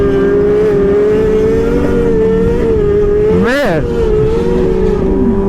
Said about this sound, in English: Oh, he's gonna do a burnout.